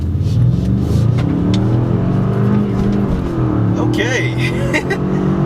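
A 2018 Ford F-150 twin-turbo pickup accelerating hard from a dead stop, its engine roaring loud and close with rising revs and a shift partway through, heard from inside the cab under someone speaking.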